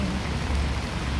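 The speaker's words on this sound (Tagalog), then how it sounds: "Maulan na panahon." Rain falling steadily, a dense close hiss of drops with a low rumble beneath, constant through the brief moment.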